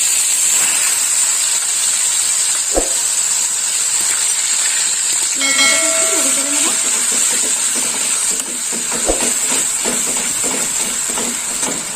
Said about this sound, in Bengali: ফোড়নে নিয়েছি তিনটে শুকনো লঙ্কা আর এখানে নিয়েছি পেঁয়াজ বাটা দিয়ে দিলাম পেঁয়াজ বাটা